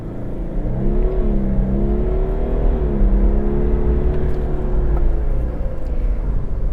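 A 2026 Toyota Land Cruiser LC300 SUV's engine drones at full throttle in sport mode, pitch rising and shifting through gears, a continuous heavy rumble heard from inside.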